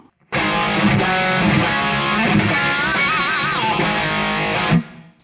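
A heavily distorted electric guitar plays a sustained, saturated hair-metal riff in a Zakk Wylde style with bending notes, using an Overloud THU amp-sim preset, loud and close, then cuts off abruptly.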